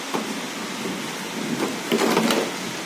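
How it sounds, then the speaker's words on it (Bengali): Heavy monsoon downpour falling outside a home on a dark afternoon, a steady dense hiss of rain with a few louder splashing bursts, no voices. "আর বাইরে পড়ছে মুসলধারে বৃষ্টি"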